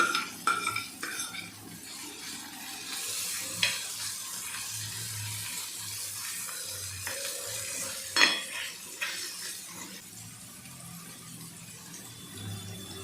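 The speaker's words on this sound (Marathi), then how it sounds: "याच्यामध्ये आता मी शिमला मिरची टाकत आहे." Green capsicum drops into a pan of sukha jawala (dried shrimp) chutney, bringing a soft sizzle with scattered metal spatula clinks and scrapes, fairly quiet and close, with no talking.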